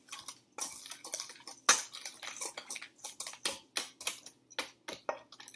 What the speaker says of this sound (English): So we'll whisk that together.